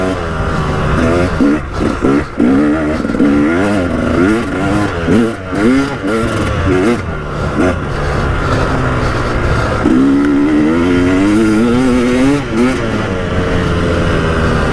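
A KTM 300 EXC two-stroke dirt bike revs hard on a riding loop during an exhaust silencer comparison, its loud, close engine rising and falling repeatedly through the rev range with sharp gear changes and throttle blips.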